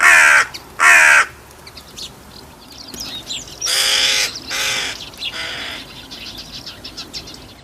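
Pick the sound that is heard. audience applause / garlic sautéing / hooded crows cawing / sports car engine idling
hooded crows cawing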